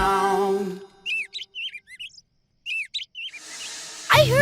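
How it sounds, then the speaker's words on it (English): A small bird chirps in short, bright bursts of tweets separated by quiet gaps, close and clear, with a voice speaking just before and a sharp noise at the end. "I heard the bird!"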